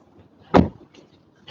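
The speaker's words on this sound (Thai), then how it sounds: "ประตูก็เรียกว่าเปิดได้ค่อนข้างกว้างนะฮะทั้ง ด้านหน้าแล้วก็ ด้านหลังนะครับ" A car door on a JAECOO 7 SHS SUV clunks once, close and fairly loud, followed by two softer, brief latch clicks.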